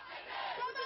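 A crowd of demonstrators at a street protest march, a dense, steady roar of many voices shouting and chanting together, brief and fairly loud.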